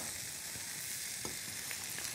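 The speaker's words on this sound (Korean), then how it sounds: "그래서 이렇게 달달 볶아주다가" Fish cake is stir-fried in a hot oiled pan, giving a steady soft sizzle with faint stirring scrapes, quiet and close.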